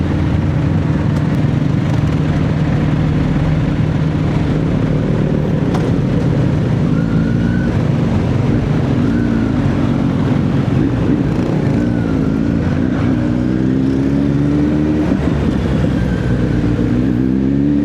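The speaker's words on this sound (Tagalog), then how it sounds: "Grabe ang traffic na dito guys." Road traffic heard from a motorbike on a hot, congested Christmas ride to General Santos City, with a steady close engine drone, passing vehicles and faint horn or siren-like tones rising through the mix, no talking.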